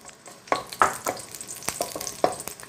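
Sliced garlic frying in oil in a pan, a close crackling sizzle broken by sharp spatula taps and scrapes, several distinct clicks over a couple of seconds with no voices.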